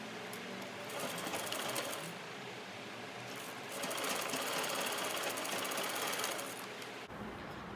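Sewing machine joining the shoulder pieces of a princess-line blouse, a continuous rapid mechanical whir that swells louder midway and stops abruptly near the end.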